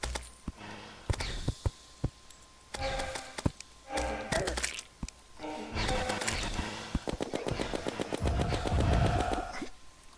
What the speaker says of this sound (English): Shoot some stuff with party bullets to celebrate.